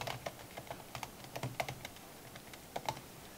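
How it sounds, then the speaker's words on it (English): Computer keyboard keys click in quick, uneven bursts of light taps, close and soft, with brief pauses between groups and no talking. "Then I'll type in a heading and subheading for the design."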